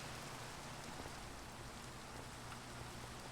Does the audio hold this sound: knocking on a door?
no